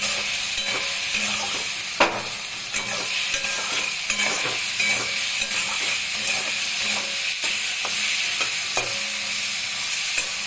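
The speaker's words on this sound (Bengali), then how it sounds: "এখন মশলাটা দিয়ে শুকনো অবস্থায় একটু নাড়াচাড়া করব" Dry spices stirred in a hot pan for a Bengali boroli fish curry, with a continuous sizzle and frequent spatula scrapes and taps against the pan, close and steady.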